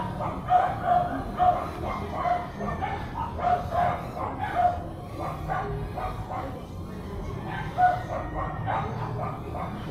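Several dogs bark outdoors, scattered sharp barks recurring through the clip over a steady buzz of nearby machinery, with possible fowl sounds mixed in.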